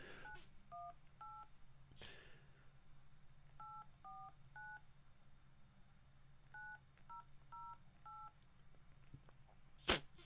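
Touch-tone telephone dialing on a phone call: two quick bursts of clear paired-pitch keypad tones in steady rhythm, separated by a pause, with a faint click near the end over a quiet room hum.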